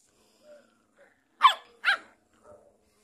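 A small pet dog gives two sharp barks in close succession, fairly loud and near, with faint rustling before and after and no talking.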